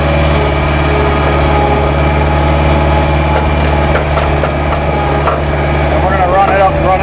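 A Bobcat 773 skid steer engine, fault codes showing, runs loud and close, holding a steady droning roar as the throttle is pushed up, with faint voices under it.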